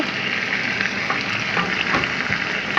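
Jackfruit curry frying in a pan as salt goes in: a dense, steady sizzle, loud and close, with faint stirring scrapes and no voices.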